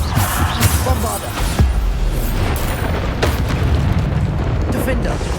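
Bombarda blast spells go off in the Hogwarts Legacy game, heavy booming explosions with rumbling low-end roar and sharp bursts, loud and sustained, layered under a shouting voice.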